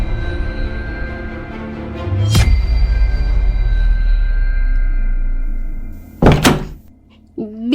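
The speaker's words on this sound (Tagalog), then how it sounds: "Bigla na lang nagsara ang pinto ng basement." A basement door slams shut with a heavy thunk, followed a few seconds later by a second loud bang and a short scrape, set against a low droning hum.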